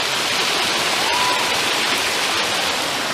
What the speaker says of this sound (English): There's the creek coming down, and they've got a little dam here